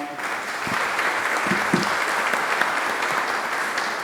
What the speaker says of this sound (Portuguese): nosso ex-prefeito Axel Grael, a quem eu peço uma salva de palmas.